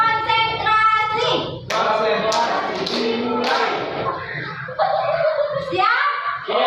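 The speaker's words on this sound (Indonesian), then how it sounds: "Tepuk konsentrasi." A group performs a clapping chant routine in a classroom-training setting: voices chant in unison, punctuated by bursts of rhythmic hand claps and taps, close and loud.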